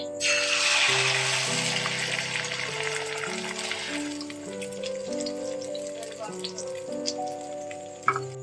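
Double-yolk egg omelette frying in oil in a wok: a bright, hissing sizzle loudest at first and easing off, close, under steady musical tones playing in the background.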